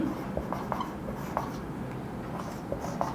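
Chalk or pen writing a definition on a board during a physics lecture on capacitors, soft scratchy strokes and light taps in an irregular rhythm over a steady room hiss, no voice heard.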